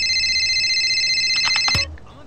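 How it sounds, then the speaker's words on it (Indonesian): A mobile phone rings in GTA San Andreas with a steady electronic ringtone that cuts off after a few chirps, leaving quieter background hum. "HP berdering Siapa nelpon"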